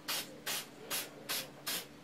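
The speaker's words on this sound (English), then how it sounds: "So now I'm just going to spray it." Ink sprays from a spray gun onto pine wood in five steady, evenly spaced hissing bursts, each lasting about a quarter second, close and fairly soft, with no talking.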